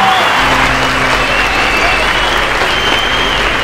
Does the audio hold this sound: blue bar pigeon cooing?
no